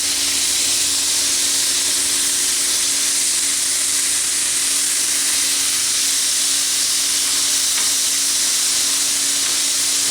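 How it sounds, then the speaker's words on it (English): Pulled pork sizzling loudly on a hot outdoor griddle, a dense steady hiss and crackle that stays constant throughout with a faint low hum underneath. "So I'm just going to put the pork on here."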